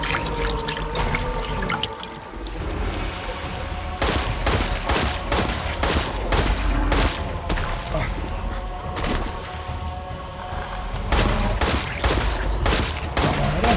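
Dense, continuous rapid gunfire in Resident Evil Village, with repeated sharp blasts including shotgun fire layered over a steady rumble of game action and background effects.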